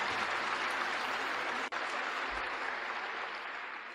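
A large audience applauds steadily at the Berkshire Hathaway 2001 annual shareholder meeting, a dense, sustained wash of clapping filling a big hall throughout.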